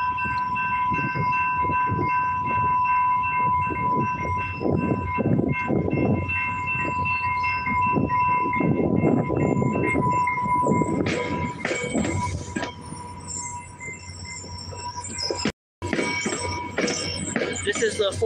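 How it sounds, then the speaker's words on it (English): A train pulling into a station near Albuquerque on a stormy day, loud and close, with a sustained horn tone over heavy rumbling and rattling wheels, and a brief dropout near the end. "The 4:15 train back for downtown Albuquerque"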